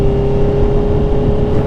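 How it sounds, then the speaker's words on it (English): Motorcycle fitted with an aftermarket eBay exhaust and its baffle filter installed, revving loudly and steadily up close with a deep, droning tone and no talking. "Yeah, definitely the exhaust is tamer with the filter thingy on."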